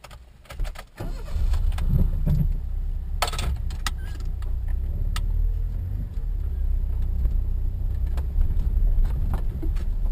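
A car engine runs steadily while driving on a city safari drive in Africa, a constant low rumble close inside the cabin with occasional light clicks and rattles, and no talking.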